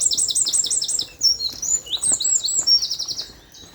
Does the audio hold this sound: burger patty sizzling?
no